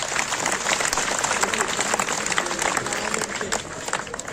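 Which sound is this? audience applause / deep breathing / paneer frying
audience applause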